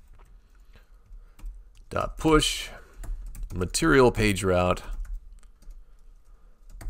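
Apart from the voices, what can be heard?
typing on a computer keyboard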